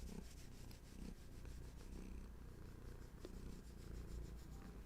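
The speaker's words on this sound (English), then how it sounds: "Oh, you brought purrs." A cat purrs softly and steadily in a quiet room, a low rhythmic rumble that carries on throughout with a faint rub near the end.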